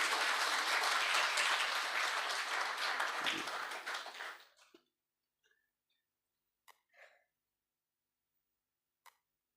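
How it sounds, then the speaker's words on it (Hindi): Audience at a Hindi-Urdu poetry gathering, a kavi sammelan in a district panchayat hall, breaks into loud dense applause lasting about four seconds, then fades into near silence broken by a few faint isolated taps and coughs. "तो आप एक बार इनके लिए जोरदार तालियां बजा सकते हैं।"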